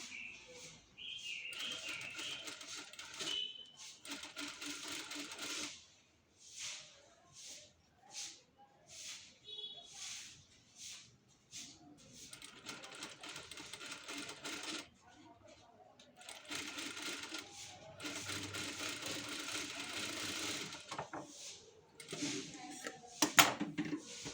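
A sewing machine stitches the neckline of a blouse in repeated bursts of rapid, close mechanical whirring, separated by short pauses, with someone talking between and over the runs.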